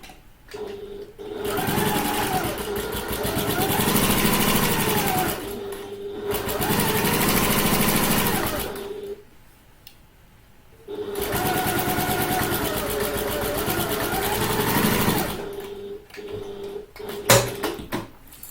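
A sewing machine stitches the side seams of a handbag from the top down, running in three steady whirring bursts with short pauses between, close and clear, ending with a few small clicks.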